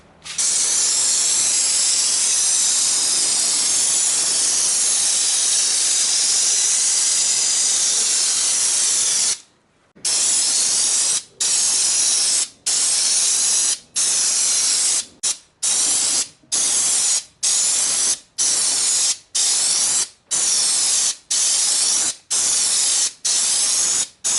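Close, loud hiss of a spray can painting the rims of a Land Rover twin turbo V8 ute: one long continuous burst, then a rapid series of short sprays separated by brief pauses.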